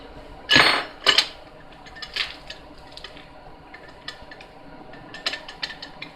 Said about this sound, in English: So I'm using a 5mm hex wrench here in case you were wondering.